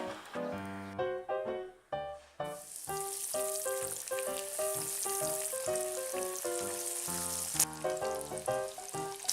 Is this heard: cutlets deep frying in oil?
yes